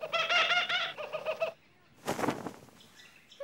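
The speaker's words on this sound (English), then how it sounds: "Peculiar bird." A kookaburra calls in an Australian high-country cartoon, giving a loud run of repeated harmonic cries. Then comes a short pause and a rough, noisy burst like flapping wings, followed by faint trailing calls.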